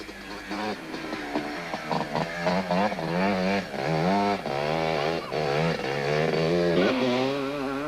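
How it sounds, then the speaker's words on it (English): A Yamaha Blaster quad races in an off-road event, its two-stroke engine buzzing and revving up and down through repeated throttle changes, loud and fairly close. "Johan Steenkamp on the Team Joburg Yamaha Blaster was making sure that he wasn't losing any time to the opposition."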